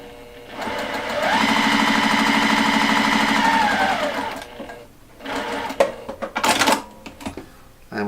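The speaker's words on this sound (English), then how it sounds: "So I'm going to sew my first one." An electric sewing machine stitches fabric with a scant quarter inch seam, a loud steady buzzing run of about three seconds that ramps up and down, followed by scattered handling clatter and clicks.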